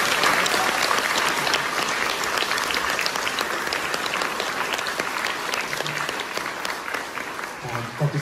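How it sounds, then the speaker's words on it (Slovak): An audience at a school event claps steadily for the performers, a dense, continuous round of applause that slowly fades, with a voice faintly audible near the end. "Veľký potlesk pre nich"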